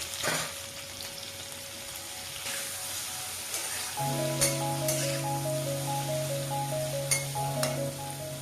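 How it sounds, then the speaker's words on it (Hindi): Half-boiled potatoes with a little turmeric frying in hot oil, a steady crackling sizzle throughout with a brief tonal hum joining midway; no talking. "अभी उसी ऑयल में हाफ बॉईल किया हुआ आलू को मैं थोड़ा सा हल्दी देके फ्राई कर लूँगी।"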